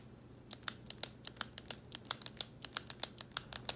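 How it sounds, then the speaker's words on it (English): Zebra Sarasa SE gel pen button clicked repeatedly: about twenty sharp, muted clicks in an irregular quick rhythm, close up and fairly quiet over a faint steady hum, with no talking. "Sort of like a muted click."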